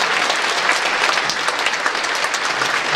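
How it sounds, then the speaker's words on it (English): An audience at a spring school concert applauds the graduating class of 2018. Thick, even clapping from many hands fills the hall steadily from start to end, with no talk over it. "One more round of applause for them."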